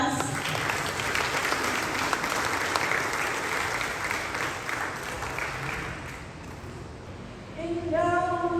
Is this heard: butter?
no